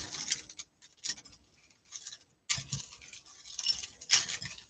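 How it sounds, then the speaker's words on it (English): Tarot cards shuffled by hand at close range, giving bursts of soft papery riffling and patter separated by brief pauses, quiet overall with no talking. "It's the best way to shuffle."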